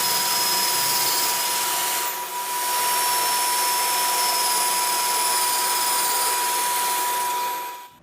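Pneumatic pocket hole jig drilling with a dust vacuum attachment, giving a steady loud hiss and whir that holds for several seconds with a brief dip partway and stops at the end.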